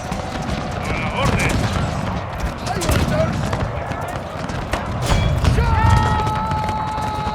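Rifle volleys crackle through a Total War game battle in the Carlist Wars mod, with dense overlapping gunfire, booms and horse hooves in a loud continuous mix while someone talks over it.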